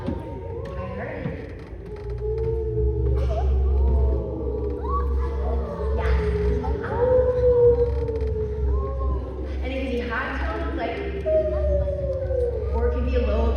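A group of people imitate whale song with long, sliding, moaning calls that rise and fall, overlapping one another over a low steady hum, fairly loud and sustained.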